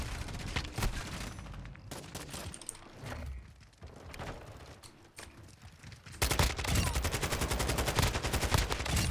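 Kastov 762 rifle gunfire in a Call of Duty video game comes as repeated bursts and scattered shots, mostly mid-distance, then a louder continuous stretch of rapid fire near the end; no talk is heard.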